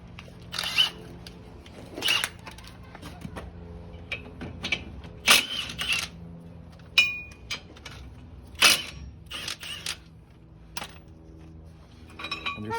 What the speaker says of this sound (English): Then we're gonna go ahead and remove the caliper bracket, which is a 17mm socket.